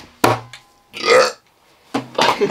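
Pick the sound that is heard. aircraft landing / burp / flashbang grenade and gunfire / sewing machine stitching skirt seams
burp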